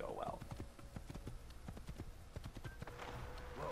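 A horse gallops in the Assassin's Creed video game, rapid rhythmic clip-clop hoofbeats close up, with a brief whinny near the end, sounding alone without talk.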